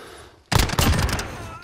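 Rapid burst of gunfire from Call of Duty Modern Warfare during a gunfight tournament match, starting abruptly after a quiet moment and staying loud and dense with overlapping shots until the clip ends.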